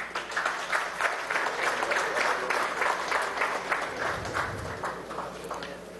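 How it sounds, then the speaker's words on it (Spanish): Applause from an audience at a summit ceremony in Caracas, steady broadband clapping filling the whole stretch at a moderate, even level with some low rumble beneath. "Un aplauso, por favor"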